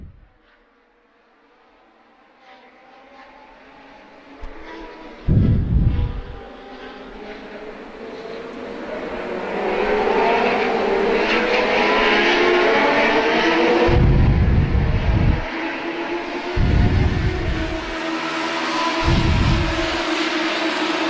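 Legends race cars race on the Moat Mountain Road Course at NHMS, with several engines roaring past in separate swells over a constant distant engine drone from the rest of the field.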